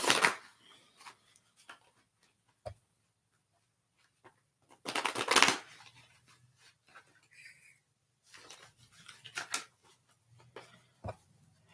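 Tarot cards are shuffled by hand in short riffling bursts separated by quiet pauses, close and fairly soft, with no talk.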